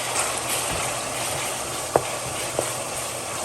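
Ackee and saltfish with black pepper sizzles in a frying pan as it is stirred, giving a steady frying hiss broken by a couple of sharp utensil scrapes and clicks against the pan.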